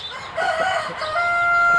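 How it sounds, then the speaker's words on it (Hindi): A rooster crows on an Amish farm in Pennsylvania, one drawn-out call rising and holding steady, close and fairly loud over faint background hum. "मुर्गे की सुबह अभी हुई है भाई की"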